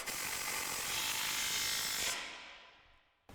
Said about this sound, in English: We're gonna grab our 19mm wrench and our 18mm socket on our impact.